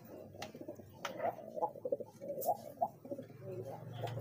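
Pigeons being paired in a cage, one trying to get out during a scuffle, give repeated low throaty coos in close, rhythmic bursts, with soft rustling between calls and no voices.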